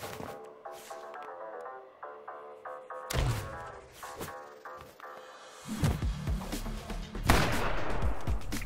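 Gunfire and heavy impact hits from the fighting game Fights in Tight Spaces, sharp bursts landing several times over a musical background, growing denser and louder toward the end.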